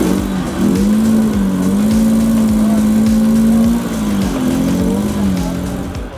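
A 4x4 off-road vehicle works steadily during a winching challenge up a hill, its engine droning with a strong low tone and small rises and dips in pitch, close by, while a commentator talks over it.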